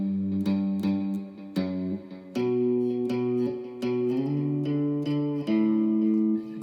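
A bass guitar plays a song's bass line alone: steady picked low notes in a repeating rhythm, with a slide between notes and a slightly effected tone.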